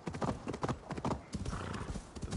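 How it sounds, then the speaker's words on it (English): Hooves clatter in a fast, irregular galloping rhythm, loud and continuous, with a busy game-like sound mix filling the background. "the gallop of the horse"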